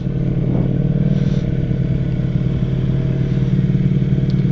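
A Ducati Streetfighter V4S motorcycle engine running, a loud, steady low throb with a faint mechanical clatter, close and continuous with no talking.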